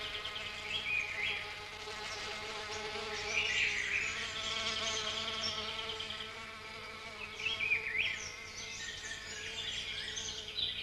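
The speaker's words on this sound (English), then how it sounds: "This is done exclusively by a species of beautiful, iridescent orchid bee, the plant's one and only pollinator." An iridescent orchid bee buzzes steadily and close, the pollinator of a bucket orchid, its continuous droning hum swelling and dipping in loudness as it hovers and moves around, with no voices.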